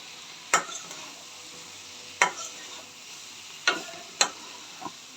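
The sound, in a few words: stirring fried potato and eggplant with spices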